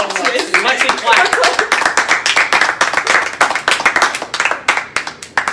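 Rapid hand clapping keeps up for several seconds, close and loud, with voices talking over it at the end of a VR horror game session.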